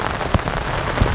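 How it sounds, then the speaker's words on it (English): Heavy rain pours steadily onto a tarp over a traditional Australian swag campsite, a dense close hiss with a few louder drumming impacts scattered through it. "that rain is really starting to come down."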